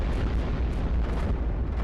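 Cannon fire in the iBomber Defense video game, a dense, continuous barrage of heavy booms blending into a loud rumbling roar throughout, with no separate shots standing out.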